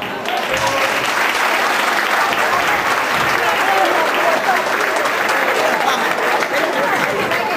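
Steady, dense applause from a seated audience greeting a choir at a charity tea gathering in Neapoli, continuous and fairly loud throughout with no break.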